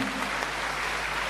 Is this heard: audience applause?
yes